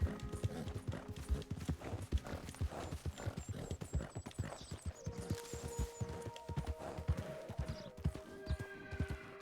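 Steady clip-clop of a horse's hooves in Red Dead Redemption 2, close and continuous at a trotting rhythm, with a brief whinny and faint ambient game sounds behind.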